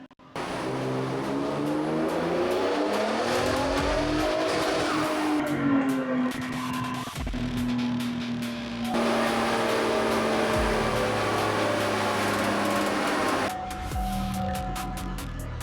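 Turbocharged Ford F-150 Raptor fitted with a Formline turbo kit roaring through a full dyno pull, engine note climbing steadily in pitch as revs build, loud and close, with a brief lift and shift midway before pulling on hard.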